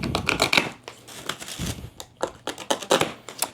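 A blade cuts open a dehumidifier's cardboard shipping box, with close scraping and tearing strokes that come in bursts of rasping cardboard noise.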